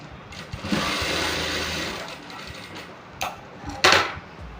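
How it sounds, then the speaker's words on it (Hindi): Sewing machine running a second line of stitching along a blouse seam, one sustained whirring burst followed by two short spurts, close and alone. "डबल सिलाई कर देते हैं।"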